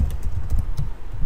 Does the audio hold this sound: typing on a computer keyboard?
yes